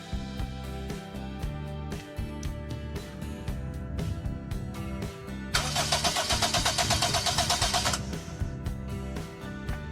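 Car engine cranking over on the starter during a compression test with oil added to the cylinder, a rapid rhythmic whirring chug lasting a couple of seconds amid clanks and handling noises, loud and close.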